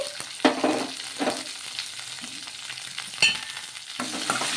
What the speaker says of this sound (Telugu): ఆయిల్ వేడెక్కిన తర్వాత ఇందులోకి ఒక స్పూన్ అంత జీలకర్ర ఒక పది వెల్లుల్లి రెబ్బలు అయితే వేసుకోవాలి